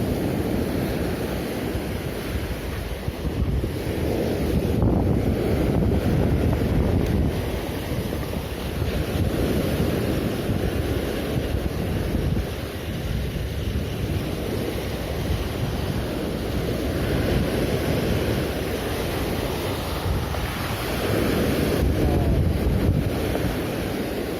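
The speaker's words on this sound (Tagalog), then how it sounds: "Lumalakas na yung alon mga buddy." Loud, continuous roar of wind and rough ocean waves on shore, with surging waves swelling and fading and heavy wind buffeting the microphone.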